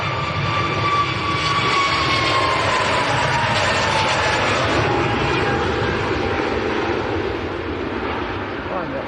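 An EasyJet airliner bound for Paphos roars loudly at Manchester Airport, a sustained jet engine rumble with a whining tone that slowly drops in pitch as the plane passes, voices faint beneath it.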